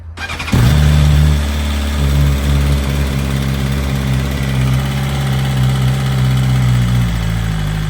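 A BMW S1000RR motorcycle engine cranks and fires up abruptly, then settles into a loud, close, steady idle with a deep throb and rising harmonics.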